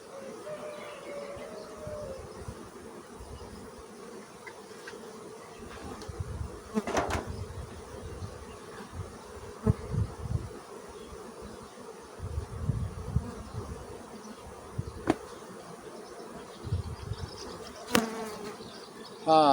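Honey bees buzz around a hive close up, a steady droning hum with individual bees whining past now and then.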